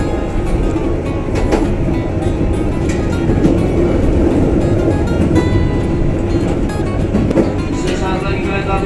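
A Pangrango passenger train running on rails between Bogor and Sukabumi, approaching Parungkuda station, heard from inside as a loud, steady rumble with faint rhythmic clicking while people talk over it.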